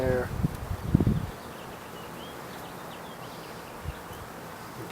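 Honeybees buzz in a steady, soft drone while new bees are installed into a hive with frames of honey and pollen, after a few seconds of thumping handling noises up close.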